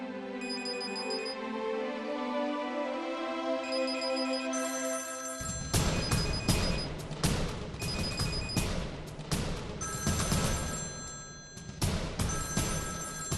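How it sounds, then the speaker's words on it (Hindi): A phone ringtone repeats its electronic ring pattern indoors throughout, later joined by loud rapid banging and crashing that nearly drowns it out. "तुम्हारा फोन बज रहा है"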